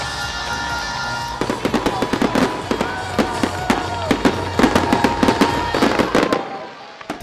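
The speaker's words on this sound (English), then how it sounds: "The fireworks are shining in the sky tonight." Fireworks bursting in the night sky during a 2019 Hong Kong protest scene, a dense run of sharp crackling pops and bangs over a steady rumble, loud and close, fading out at the end.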